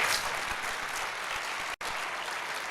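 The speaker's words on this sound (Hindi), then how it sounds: "ताली बजाओ इस बात पे।" An audience at a Jain religious discourse in Hingoli claps together in steady, dense applause that continues with only a brief break.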